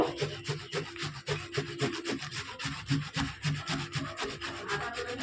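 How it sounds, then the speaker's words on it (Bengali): A tomato rubbed against a grater for a homemade skin-care mix makes quick, rhythmic scraping strokes, several per second, close up and moderately loud, with no talking. "টমেটোটা এরকম একটু ঘষে নেব"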